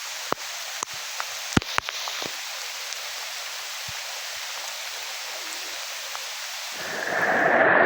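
Heavy rain with thunder on a farm footpath overgrown with grass: a steady broadband wash with a few sharp cracks and low rumbles early on, then the downpour swells louder and closer in the final second.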